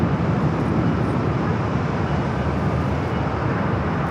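A Boeing 737-800 airliner arrives at Los Angeles International Airport, its engines producing a loud, steady broadband roar that fills the whole four seconds.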